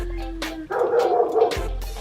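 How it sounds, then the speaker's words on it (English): A dog barks in short bursts, with a louder, sustained stretch of barking in the middle, fairly close by. "I just hear her barking"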